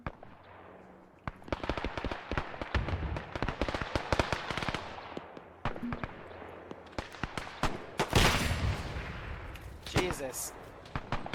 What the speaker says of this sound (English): They're popping AT grenades on this position.